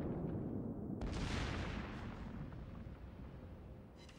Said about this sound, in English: We pick up a nice salvo against the Iron Duke there